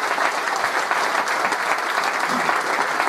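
Loud, close applause from an audience at a political talk on Veneto self-determination, a thick steady clatter of many hands clapping without pause.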